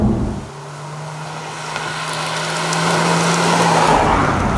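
A Honda Civic Type R drives along, its steady engine drone and tyre and road noise heard from inside the car, rising slightly in intensity toward the end.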